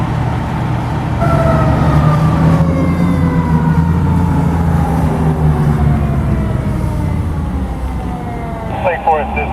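A fire truck responding to a call sounds its wailing siren with slow falling sweeps over a loud diesel engine rumble, passing close by, with a few horn blasts near the end.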